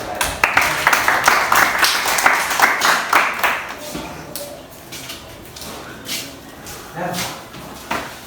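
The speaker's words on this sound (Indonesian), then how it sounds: "Boleh sekali lagi tepuk tangan untuk kelompok lain." A classroom audience claps for a group presentation in a burst of scattered hand claps that thins out, then a few more claps return near the end, with a voice speaking briefly.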